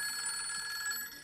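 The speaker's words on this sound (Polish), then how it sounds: "Przepraszam bardzo, mój telefon, przepraszam." A mobile phone rings with a bright, steady electronic ringtone tone, loud and close, continuing for about a second before fading slightly, with no voices over it.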